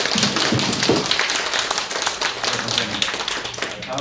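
Audience at a policy forum in the Seoul Press Center bursts into sustained, loud applause, individual claps crisp and dense throughout, with faint voices underneath.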